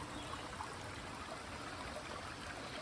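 Faint, steady trickle of a small stream serving as a water source along the Appalachian Trail, a soft continuous wash with no talking.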